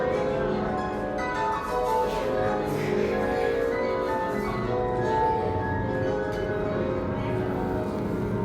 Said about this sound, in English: Come on, duck, ring the bell.